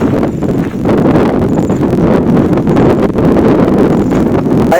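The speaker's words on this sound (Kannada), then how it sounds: "ಹೆಂಗೆ ಗಾಳಿ ಬೀಸ್ತಿದೆ ಅಂದರೆ ಸಕ್ಕ ಸ್ಪೀಡ್ ಇದೆ ವಿಂಡ್ ಪವರ್ ಅಂತೂ ಎತ್ತ ಬೀಸಾಗ್ತಿದೆ" Strong wind gusting across the Kumara Parvatha mountain trek, roaring loud and continuous against the microphone with heavy low buffeting throughout.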